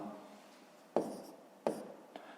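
Handwriting on paper while working a fifth-grade long-division exercise, with a few scratchy pen strokes and two sharper taps standing out, close and quiet, with no talking.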